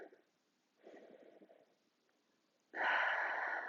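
Slow, deep yoga breathing during a cool-down: a few quiet, airy inhales and exhales with pauses between, ending in a longer, louder breath close to the listener.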